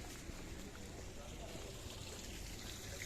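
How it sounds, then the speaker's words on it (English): Steady broadband hiss of rain falling on harbour water and a boat at Paphos harbour on a wet, windy night, continuous and fairly close, with a soft trickling undertone. "Listen to the rain."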